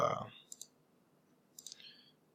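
A computer mouse clicks twice in quick succession, then clicks again in a second short pair about a second later. The clicks are close and faint, and a brief low muffled sound comes just before them.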